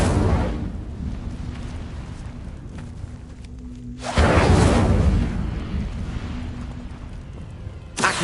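Incendio fire spell cast in Hogwarts Legacy, loud roaring bursts of flame, one long blast then a second surging one midway and a short third burst at the end, with a faint voice underneath.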